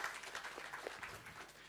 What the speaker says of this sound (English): let's give a round of applause for all the Lyzr team that's present here